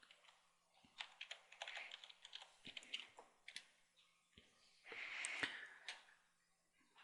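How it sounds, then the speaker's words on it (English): Quiet, close keystrokes tap out a username and password on a computer keyboard in irregular bursts, with a short flurry of faster typing near the end. "So key in your username and password you selected."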